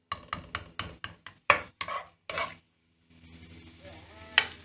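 Garlic, ginger and onion frying in a pan: about nine quick, close stirring scrapes in a steady rhythm, then a short pause and a soft, continuous sizzle with one sharp clink near the end.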